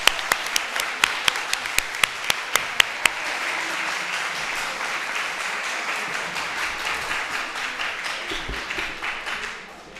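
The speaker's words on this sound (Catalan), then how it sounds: "Un aplaudiment per les vostres famílies." Audience at a secondary school graduation ceremony applauding the families, with several distinct single claps at the start swelling into sustained, even applause that fades toward the end.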